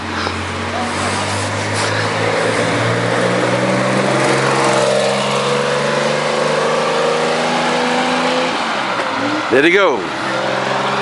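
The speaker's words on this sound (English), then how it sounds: "Here comes a Porsche." A Porsche race car in the Singapore to Mandalay road race drives toward and past a checkpoint, its engine note climbing steadily and then sweeping by up close with a sharp pass, while people talk over it.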